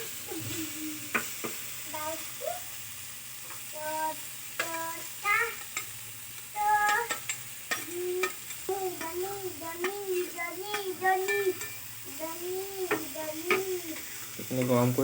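Tomato, ginger and chilli frying in a pan, a soft steady sizzle with repeated scraping stirs and clinks, while a person talks over it.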